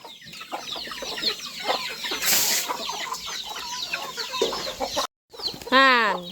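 Chickens cluck and squawk repeatedly close by in a rural Thai farmyard, loud and busy, with a rooster-like call rising near the end.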